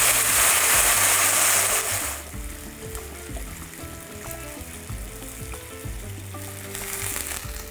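A loud hissing roar rises as 1.5 litres of boiling water hit fried beef pieces in a pot, then settles after about two seconds into a quieter bubbling simmer that swells again near the end.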